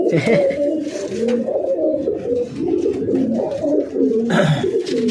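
Tournament racing pigeons cooing in repeated low throaty rolls, close and fairly loud, continuing steadily with no talk.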